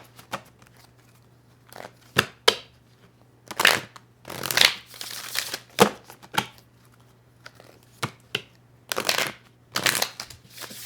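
Tarot cards shuffled during a love reading, a series of brisk riffling bursts separated by short pauses, fairly close and clear, with a faint steady hum underneath.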